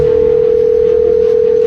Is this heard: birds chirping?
no